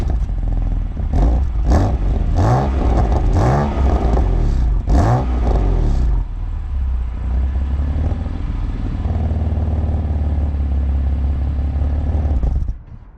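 A 2018 BMW M4 Competition's 3-liter twin-turbo straight-six, 425 horsepower, paired with a 7-speed DCT, revs up loudly several times in a row, climbing and falling sharply, then settles into a steady, droning cruise close by.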